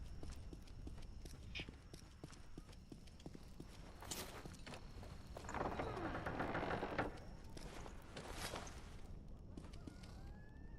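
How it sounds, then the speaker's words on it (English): Birds honking in a video game, heard as faint goose-like honks over a constant busy game soundscape with rhythmic clopping steps and a louder swell midway. "Oh, there's birds in here."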